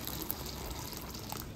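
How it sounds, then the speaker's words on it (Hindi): Water is poured into boiling milk while making khand boora, a steady, faint liquid rush running throughout with no speech. "जब ऐसे उबाल आने लगेगा तब आपने क्या करना है, इसमें थोड़ा पानी डालना है।"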